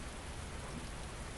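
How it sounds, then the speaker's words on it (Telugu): Rain in the video game GTA falls as a steady, even hiss of broadband noise with no distinct drops or voices, fairly soft. "అసలే వాన తడుస్తున్నాం"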